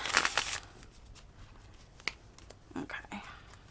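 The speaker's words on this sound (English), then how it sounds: "I'm going to shuffle this one more time." A few bursts of cards being shuffled close up, with quiet whispery talk and light handling sounds between them.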